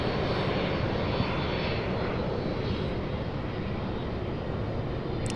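Heavy Airbus cargo jet on final approach at night near UPS Worldport, Louisville, a steady broadband engine roar holding loud and continuous throughout with no voices.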